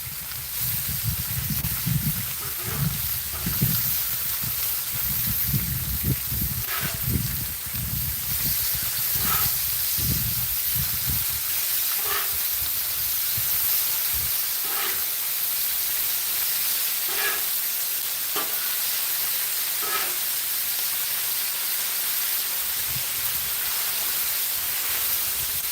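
Sausage patties seasoned with maple breakfast seasoning fry in a pan with a constant, even hiss, punctuated by faint, regularly spaced pops and small clicks.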